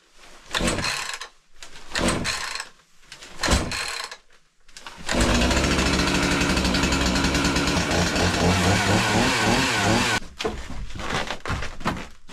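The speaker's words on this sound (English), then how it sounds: "Now we have to see if the chainsaw will start." A chainsaw outside a remote Alaskan cabin at -28F is pulled several times in short rough bursts, then catches and runs loud and raspy for about five seconds before dropping back to a lower idle.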